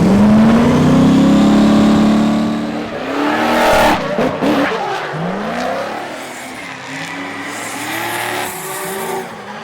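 A loud supercharged V8 drift car engine revs hard toward 9500 RPM, rising in pitch, then cuts through bursts of squealing tires and repeated throttle blips, close and aggressive.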